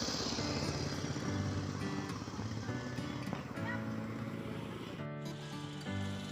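Motorized soil tiller churning soil in a garden plot beside a driveway at a sports complex in Butuan City, a steady rough engine drone at middle distance, with someone talking over it.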